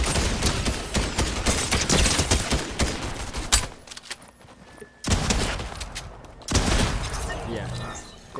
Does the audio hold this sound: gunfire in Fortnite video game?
yes